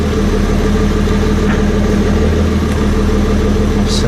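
BMW 335d diesel with an upgraded power steering reservoir idling steadily close by, a continuous low engine rumble with no start visible, running alone without talk for a few seconds.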